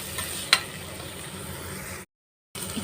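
Onions and ripe country tomatoes sautéing in a pan for egg gravy, a steady low sizzle with one sharp utensil clink early on, broken by a brief gap of silence near the end.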